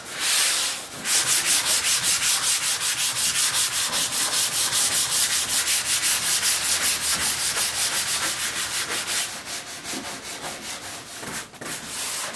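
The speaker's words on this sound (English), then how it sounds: "we're using a sanding block appropriate to sand the surface of the counters" Steady rhythmic scraping of a sanding block rubbed back and forth across a countertop's Bondo repair, many quick even strokes continuing throughout, close and fairly loud.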